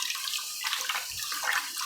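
Water runs steadily over sushi rice being rinsed, giving a continuous close splashing and hissing flow with slight surges and no talking.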